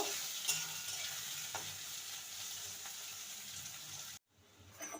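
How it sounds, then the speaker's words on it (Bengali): Onions frying in refined oil in a kadai until browned for mutton biryani, a steady close sizzle with light stirring scrapes, cutting off near the end as the heat is turned down. "পেঁয়াজটা ভাজা হয়ে গেছে এবার তুলে নেব"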